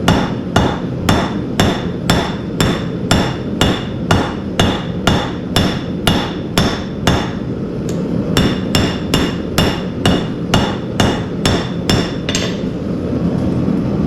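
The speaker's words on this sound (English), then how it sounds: "Back on the forge and hammer down." Rapid, steady hammer blows ring out on a hot mokume gane billet made from 16 stacked quarters at the forge, dozens of loud clanging strikes in a regular rhythm, close and continuous with a brief pause midway.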